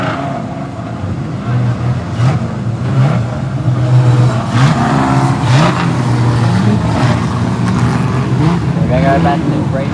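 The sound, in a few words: street stock race cars racing at speedway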